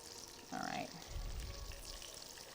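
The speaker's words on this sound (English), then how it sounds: "It starts to sizzle." Pork chops frying in a pan give a faint, steady sizzle, with a short clatter of cookware near the start, and no talking.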